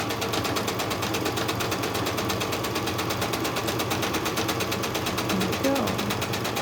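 A sewing machine runs a tack stitch along the edge of a crazy crumb quilt block, a loud, close, steady rapid needle clatter held continuously throughout, with no pauses.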